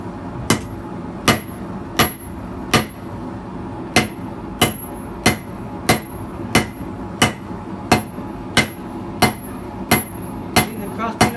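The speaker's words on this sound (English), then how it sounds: "Using the crossbeam of the hammer to spread the material." Hammer striking hot metal on an anvil while forging a chisel, a steady series of sharp, loud ringing blows at an even rhythm of roughly one per second, close by with a faint hum beneath.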